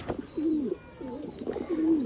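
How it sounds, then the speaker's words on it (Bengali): Domestic pigeons of an old bloodline coo in their loft, two soft rolling coos close by with a brief pause between, alone without talk. "এটা হচ্ছে আমার খোপের সব থেকে পুরনো এবং সব থেকে ঐতিহ্যবাহী একটা জেনারেশনের কবুতর"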